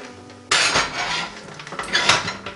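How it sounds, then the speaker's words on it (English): Metal clatters and clanks as the cover and dome are set back onto a NuWave Primo grill oven, a couple of close, brief bursts of rattling metal with no talking. "I'll try to put the cover on and then just put the dome back on"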